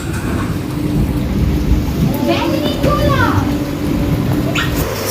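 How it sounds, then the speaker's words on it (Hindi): Heavy rain pours down steadily with low rumbles of thunder underneath, loud and continuous throughout, while children's voices and brief speech come through over the downpour. "और यहाँ पर बारिश रुकने का नाम नहीं ले रही है"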